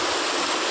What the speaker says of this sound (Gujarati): એક જ ધારો આવે છે ભૂંગળામાં હવે કેટલું પાણી જાય છે